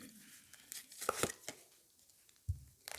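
Lenormand cards are drawn from a deck, giving a few sharp papery snaps and crinkling rustles close by, separated by quiet gaps and ending in a soft thump and light taps.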